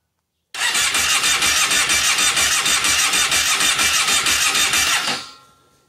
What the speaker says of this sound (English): But we'll see if we can get it to fire up.